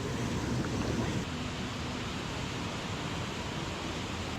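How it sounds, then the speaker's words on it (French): A waterfall pours steadily in a cascade on Ilha Grande, Brazil, a dense, continuous roar of rushing water heard close up with no voices. "On est dans la cascade."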